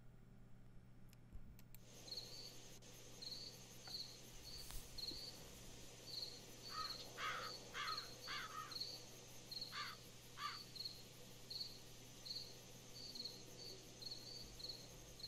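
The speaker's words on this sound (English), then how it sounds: "Crickets." Crickets chirp at night in the Sherlock Holmes: Crimes & Punishments video game, a faint, steady string of pulsing chirps with a few brief clicking bursts partway through, and no voices.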